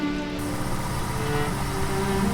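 A car driving in rain, a steady road and engine drone with wet hiss and faint tonal hum underneath, even and unbroken with no talking.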